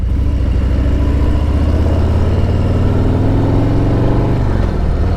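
A 2025 Harley-Davidson Road King police motorcycle engine runs loud and close, a continuous low rumble that rises slightly in pitch before easing back.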